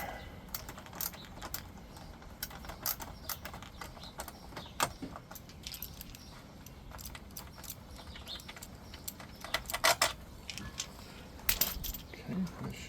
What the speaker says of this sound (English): Basically, I'm just unscrewing one of the screws up here.